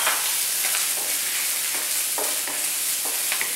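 Minced ginger and garlic fry with cloves in oil for a butternut squash curry, a steady soft hiss with brief scraping stirs, close and fairly quiet, no talking.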